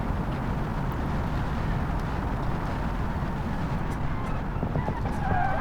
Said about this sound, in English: And I spun out in the last corner!